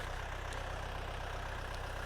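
A DT-5404 tractor engine drones steadily and low while pulling 1.5 m Bomet discs across a field, an even, continuous rumble with a faint ticking pulse and no voices.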